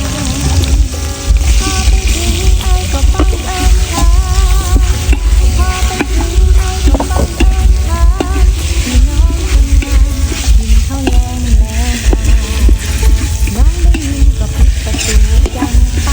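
Pork skin stir-fried with Thai curry paste in a pan, a loud continuous sizzle with steady scraping and stirring of the spatula throughout, no talking.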